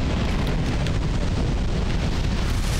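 A dragon's fire breath in Dark Souls 2, in the Keep of Smelting Dragons: a steady, loud, roaring rush of flame that lasts about three seconds without a break.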